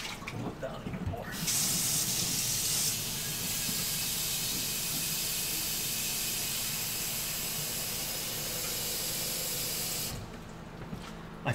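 Tap water running hard into a pot at a kitchen sink, a loud steady rushing hiss lasting about nine seconds before cutting off, with a faint voice at the start.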